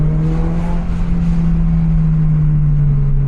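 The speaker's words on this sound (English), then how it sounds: "give it a little bit of gas" Steady low engine drone from a Subaru BRZ/GR86 with an aftermarket exhaust, held at a light throttle, loud and close with a constant deep hum and no talking.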